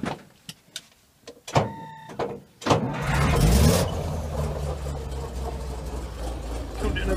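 Close car engine cranking over and catching, after a few clicks and knocks, then settling into a steady rumbling idle; a voice is heard briefly near the start.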